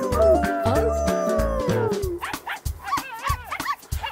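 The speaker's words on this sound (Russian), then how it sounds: "Мама собачка." Cartoon dog barks and yips in a Russian-language children's song, starting over sung melody and bright music, then a run of short rhythmic barks, close and loud, toward the end.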